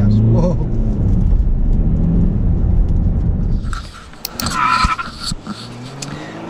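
Diesel Volkswagen Golf GTD accelerating in second gear, a loud, rough low engine roar building steadily for about four seconds, then dropping away to quieter road and cabin noise with small clicks.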